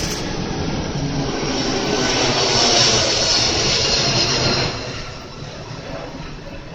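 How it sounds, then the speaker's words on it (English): A fixed-wing airplane engine passes overhead as a loud, steady roar that builds to a peak and then eases off as it moves away, with no talking. "Oh, I do hope that's the last possessed plane."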